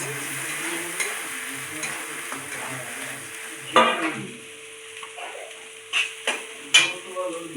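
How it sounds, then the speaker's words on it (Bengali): Spices sizzling quietly in a pan for chicken biryani, a soft steady fry punctuated by scraping stirs and a few clinks of a utensil against the pan, no voices. "মশলাটা ভালোভাবে করে ভেজে নেব"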